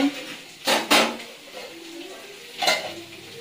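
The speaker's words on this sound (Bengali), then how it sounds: "ভাত ফুটছে একদিকে, আর একদিকে আলু ভাজি" Potatoes sizzle quietly in a pan while a utensil scrapes and stirs in a few sharp bursts, with soft kitchen clatter.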